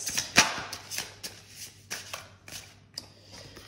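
Tarot cards are handled and shuffled while the sixth card is drawn in a reading: quick papery flicks and slides in an uneven rhythm, close and fairly clear, with no voice.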